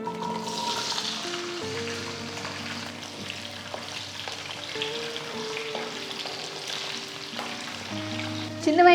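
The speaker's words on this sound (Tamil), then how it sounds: "நான் இப்போ மெதுவாக இந்த சின்ன வெங்காயத்தை முழுசாகவே போடுறேன்" Whole small onions drop into a mustard-seed tempering for sambar and fry with a soft, continuous sizzle, under background music with a brief louder clatter at the very end.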